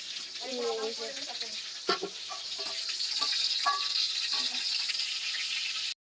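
Onions frying in hot oil in a home kitchen, a steady bright sizzle running throughout with occasional clinks and stirring rattles, while someone talks over it before the sound cuts off abruptly.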